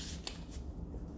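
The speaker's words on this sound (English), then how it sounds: "shuffle the deck a bit" A brief riffle of slippery playing cards being shuffled, two or three quick papery bursts close up and faint, with no voices.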